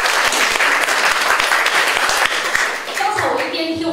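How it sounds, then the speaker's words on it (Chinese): A large audience claps in sustained, dense applause at a talk event about the death penalty, steady and loud throughout before thinning slightly near the end as a voice begins speaking. "我们先给他一个掌声"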